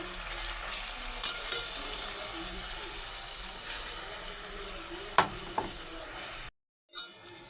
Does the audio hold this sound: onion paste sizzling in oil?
yes